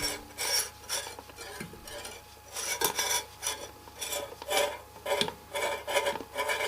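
An old 1930s–50s radio gives rough, rhythmic scraping as its dial rubs against the dial cord, close and moderately loud in repeated bursts with no voices.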